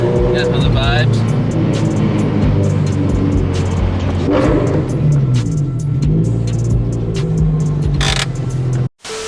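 A turbocharged Scion FR-S sports car rolls up to a storage unit facility, its engine a steady loud rumble with a mild rev swell midway, cutting off briefly near the end; a voice talks over it.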